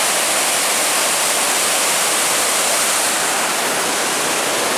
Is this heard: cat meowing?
no